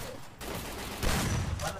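A dense, rapid burst of gunfire in the shooter game Free Fire, loud and continuous with overlapping shots, swelling toward the end.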